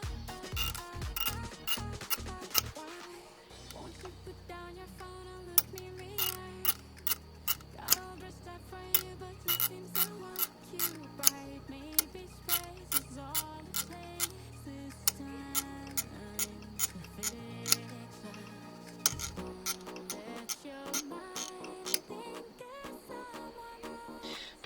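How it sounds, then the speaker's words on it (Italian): A washer on a Kawasaki Z750R clutch cable is turned clockwise to adjust tension, giving a long run of small, regular metallic ticks and clicks, close and quiet over a faint hum. "rigirare la rondella in senso orario per registrare il tiraggio della frizione"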